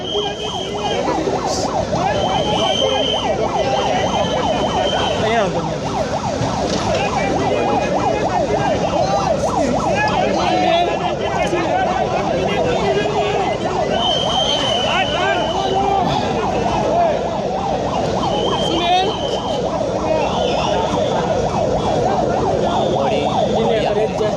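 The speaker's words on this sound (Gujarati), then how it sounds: "એમ્બ્યુલન્સ" An ambulance siren wails continuously and loudly in Ahmedabad after the Air India plane crash, its repeating rising and falling tone mixed with traffic noise throughout.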